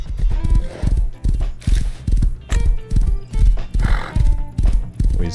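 Rapid hoofbeats of a galloping horse pound steadily throughout, with a loud neigh breaking in partway; game audio from Rust on console, with no talking.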